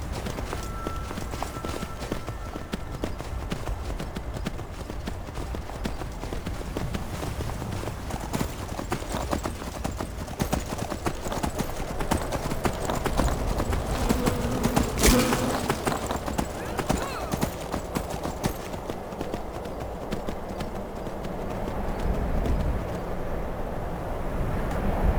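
A horse clip-clops steadily beneath a rider in Skyrim, the rhythmic hoofbeats continuing throughout alongside game ambience, with someone talking over it.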